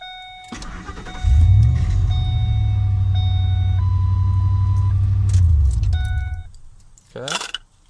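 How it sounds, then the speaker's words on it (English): A Ford F150 pickup (1999–2003 era) starts using its original key: keys jingle, the starter cranks briefly, then the engine catches into a loud, close, steady idle rumble for several seconds before shutting off, with a chime and more key rattle. "the original Ford key, of course, still works. Starts the truck up just fine."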